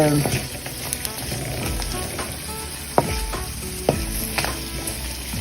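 Onions and fresh green curry leaves sauté in a pan with a continuous close sizzle, broken by a few sharp scraping stirs; a voice speaks faintly in the background.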